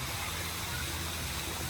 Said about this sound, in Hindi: एक्चुअली सुनने में आप पानी की आवाज़ सुनेंगे